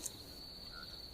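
Cartoon crickets chirp at dusk around a village veranda, a faint, steady high trill sustained evenly through the brief moment with no voices.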